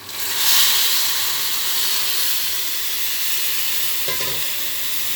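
Vermicelli fries in ghee with liquid milk added, giving a loud, steady close sizzle and hiss that runs throughout, with a brief stirring clatter near the end.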